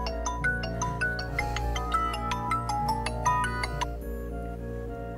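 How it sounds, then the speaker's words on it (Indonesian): Electronic telephone ringtone at night, a quick run of bright chiming melodic notes over a low steady hum, fairly quiet and fading out in the final second. "Ada telepon."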